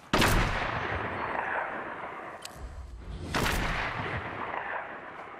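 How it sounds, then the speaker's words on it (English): Two loud, booming sniper rifle shots ring out in the Fortnite video game, each followed by a long fading echo, the second about three seconds after the first. "Let me throw in a couple of sniper bullets in there"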